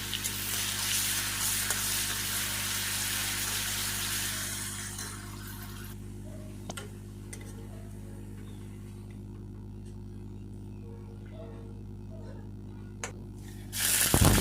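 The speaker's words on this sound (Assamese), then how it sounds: "এতিয়া থেতেলিয়াই ৰখা মই নহৰুখিনি মই দি দিম। ভালকৈ মই ভাজি ল'ম।" Crushed garlic fries in mustard oil in a wok, a bright sizzling hiss at first that fades after a few seconds into a low, quieter crackle with occasional pops, ending in a short burst of noise.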